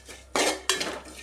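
Grated coconut roasting in a pan being stirred with a metal utensil for a Kerala theeyal curry, giving two loud bursts of scraping and clinking close up with no talk.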